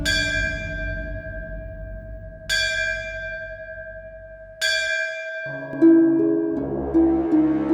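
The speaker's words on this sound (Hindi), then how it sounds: "इतनी तेज ध्वनि में घंटी बजा रहा है" A metal temple bell struck three times at night at even intervals, each ring loud and long-sustained, then a brighter ringing tone continues over it.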